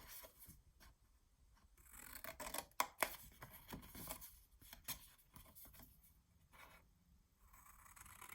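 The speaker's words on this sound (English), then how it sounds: "Cut that, and I'm going to go ahead and cut this off here." Scissors snipping and trimming a paper seed packet for a mini album, heard as faint, close, sparse cuts and rustles with a couple of sharper snips in a quiet room.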